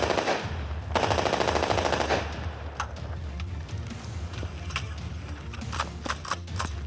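Rapid bursts of gunfire ring out at close range on a weapons test range, a dense automatic volley up front followed by scattered sharp individual shots and cracks, with no talking.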